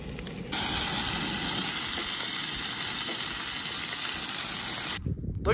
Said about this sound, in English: I gotta flip this bacon